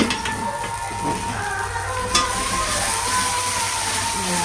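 Spices frying in a pan, a constant crackling sizzle close by, broken by scraping stir strokes and a sharp clink of the utensil against the pan, with no one speaking.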